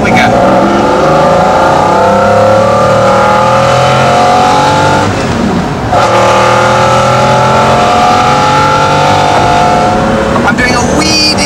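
A McLaren F1 road car pulls away in second gear, its engine loud and close as it revs steadily upward with rising whine, briefly dipping at a gear change before climbing again.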